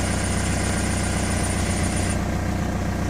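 A faulty Audi A3 engine idles loudly and close, with a high squeaking, chirping whine riding over the steady rumble that drops away about two-thirds through.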